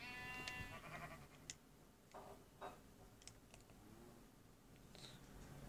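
Sheep in the Minecraft video game let out a few short, faint bleats over soft keyboard clicks and light background noise.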